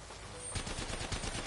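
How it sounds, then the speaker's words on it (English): Rapid gunfire in the video game Apex Legends, a quick burst of several close, loud shots in a brief sequence. "I'm shooting all around this guy"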